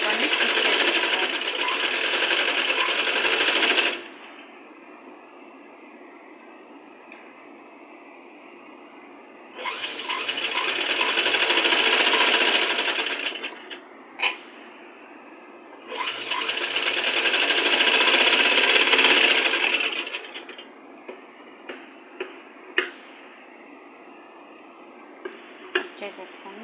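Several bursts of steady whirring from a sewing machine stitching fabric to make piping, each lasting a few seconds with quiet gaps between, plus scattered small clicks and taps from handling the cloth.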